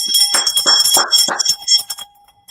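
A small bell shaken repeatedly in rapid bursts, bright ringing tones lingering between strokes, close and loud, then fading out.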